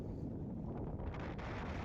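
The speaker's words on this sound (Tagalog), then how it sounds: "Lakas ng ihip ng hangin." Strong wind gusts buffet the microphone outdoors as heavy rain approaches, a steady, loud low roar with no break across the whole stretch.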